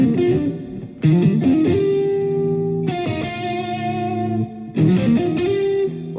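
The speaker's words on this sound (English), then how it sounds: "you need heavy distortion, because it's a lot of notes" A heavily distorted electric guitar plays a fast solo of rapid notes and sustained bends, loud and alone with no voices.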